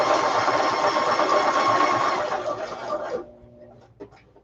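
A sewing machine runs continuously as it zigzag stitches around paper and ribbon, then stops abruptly, leaving near-quiet with a faint knock.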